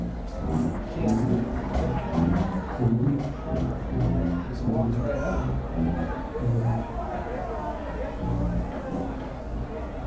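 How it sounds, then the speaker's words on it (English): Crowd murmur at a high school homecoming football game, a steady babble of many voices filling the stands, with a voice talking over it throughout. "We see the Highlander crowd here for homecoming"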